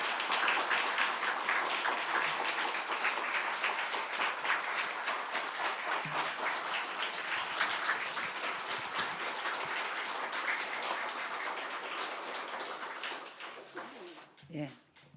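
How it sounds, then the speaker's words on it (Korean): A church congregation claps to welcome a missionary at a Sunday morning service, a continuous patter of many hands that fades out near the end as a voice comes in. "우리 박수로 우리 환영하도록 하겠습니다."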